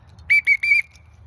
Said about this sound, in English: loading the whistle requires her to do absolutely nothing